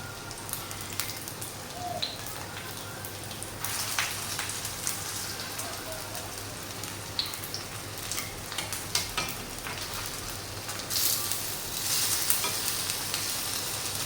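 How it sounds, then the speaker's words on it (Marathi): Rice pancakes fry until crisp in a pan, a steady close crackling sizzle like light rain with occasional sharper pops and scrapes as they are flipped, soft voices faintly underneath. "आपण मस्त त्याला छान असं खरपूस फ्राय करून घेऊया पलटी करून घेऊया"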